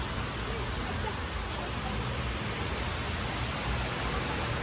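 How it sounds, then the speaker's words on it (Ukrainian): Splashing water fountains in a green park, a steady unbroken wash of spray and falling water that holds at an even level throughout, with no other distinct sounds standing out. "Там дуже гарно ще є фонтанчики такі."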